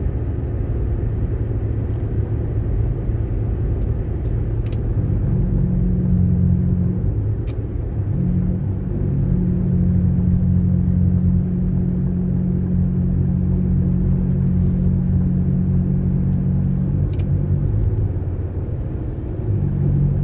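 A worn front passenger-side wheel bearing on a 2007 Chevy Impala driving on the highway, heard as a steady low droning hum and road rumble that swells and eases over about twenty seconds.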